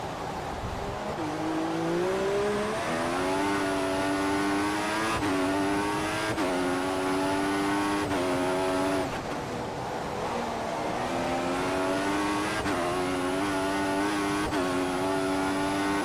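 Formula 1 race cars in the F1 2014 video game at the Chinese circuit, a loud continuous engine whine rising in pitch through repeated gear upshifts, each climb dropping sharply before building again, with no voices.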